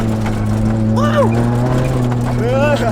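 A Mazda Miata prerunner drones on a Colorado mountain 4x4 trail, its steady exhaust hum loud and close while excited voices talk and whoop over it.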